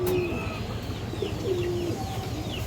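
Giribaz pigeons in a mixed collection of coloured, high-flyer and palla-line birds coo steadily at close range, several low drawn-out calls overlapping against a constant hum of background noise, with faint higher chirps now and then.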